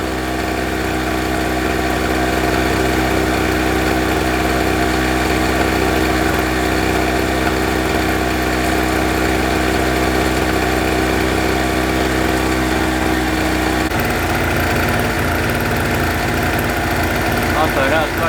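Repaired 2-stroke generator engine idling close by, a steady buzzing drone throughout that shifts slightly in tone near the end, with speech faintly under it.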